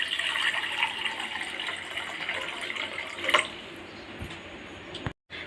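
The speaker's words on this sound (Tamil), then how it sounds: "நம்ம இப்போ 2 டம்ளர் அளவுக்கு தண்ணி சேர்த்துக்கலாம்." Water, about two tumblers' worth, pours steadily into a pot for guava leaf tea, a close continuous splashing stream that thins out and ends with a few drips and a soft clunk.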